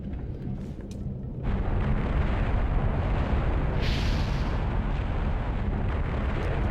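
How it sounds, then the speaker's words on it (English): A fire geyser erupts in The Legend of Zelda: The Wind Waker, a sudden steady roaring rush of flame that holds loud and continuous, with a brief hissing flare partway through. "this geyser continues to spit us upward"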